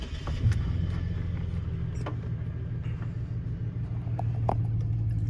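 Car engine cranking to life with a quick rise at the start, then settling into a steady low idle rumble close by, with a few faint clicks over the running motor.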